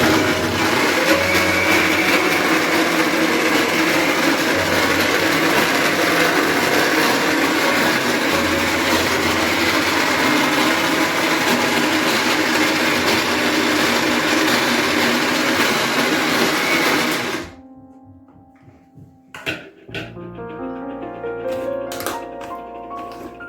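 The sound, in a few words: wet grinder grinding urad dal batter for vada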